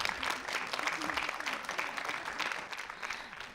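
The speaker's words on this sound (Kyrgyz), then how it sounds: "Кол чаап коюңуздар." Applause from a studio audience at a televised intellectual quiz game, a steady wash of clapping across the whole stretch at moderate volume, with no one speaking over it.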